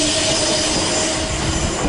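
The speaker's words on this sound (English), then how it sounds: "Pair of 444s with a service to Portsmouth Harbour and Bognor Regis." A pair of class 444 trains runs through Clapham Junction station, a steady close roar of wheels and rail noise with a faint squeal, filling the whole stretch without pause.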